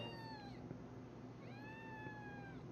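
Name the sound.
cat meowing in the video game Cattle & Crops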